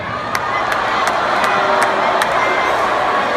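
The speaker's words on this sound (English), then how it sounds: "After being booed by the crowd" A large concert crowd booing a performer, a continuous loud roar of many voices holding steady throughout.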